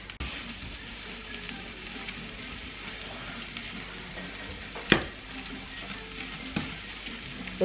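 Corned beef sizzling with cabbage in an oiled frying pan: a quiet, continuous crackle and hiss of frying with a sharp utensil clack near the middle and another softer tap later.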